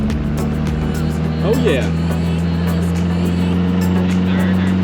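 A 1963 MG Midget engine pulls in second gear with a steady, loud, close drone throughout, and a person speaks briefly over it.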